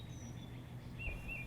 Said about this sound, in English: Some nice bird song there.